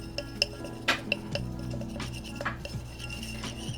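Gum and glycerin being stirred for homemade moisturizing hand soap, a utensil clinking and scraping against a bowl in steady, close strokes with occasional sharper knocks.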